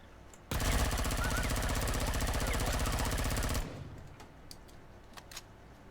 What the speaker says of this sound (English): See, now aren't you glad that we made that assault rifle?